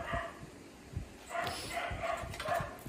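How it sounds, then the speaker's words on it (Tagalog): A dog barks repeatedly nearby in short, uneven bursts, some sharper yips among them, with no talking over it. "Sorry may asong tumatakol."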